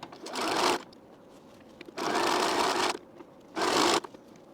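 A sewing machine stitching a T-shirt runs in three separate bursts of fast, buzzing needle clatter, each under a second long, with quiet pauses between them.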